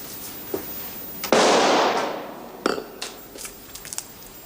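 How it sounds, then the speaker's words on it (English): Gunshot fired inside a dining room: one sharp, loud blast that decays over about a second, followed by a few faint knocks and clicks, with no voices. "That was a gunshot, sir."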